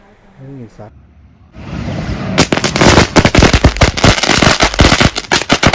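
After a brief quiet start with a faint voice, Diwali-style novelty firecrackers erupt into a loud, dense string of rapid cracking bursts that continues to the end.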